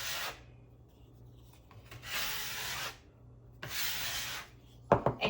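Three rough rasping scrapes of a small drywall tool clearing sticky dough off a work surface, each about a second long with pauses between, close and clear, ending in a few knocks.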